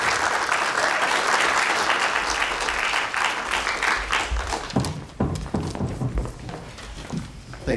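Audience applause at a film screening Q&A welcoming a speaker, dense and steady clapping from a sizable crowd that thins after about five seconds into scattered, sharper individual claps as it dies down.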